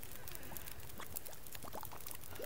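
Water pours steadily to refill a bottle in the survival game The Long Dark, a continuous trickling splash running the whole time at moderate level, with no voices.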